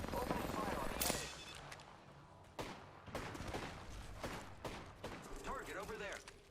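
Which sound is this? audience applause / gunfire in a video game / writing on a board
gunfire in a video game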